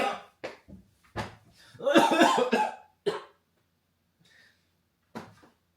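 Several short, sharp coughs burst out close by, with a longer rough spluttering stretch in the middle and quiet gaps between.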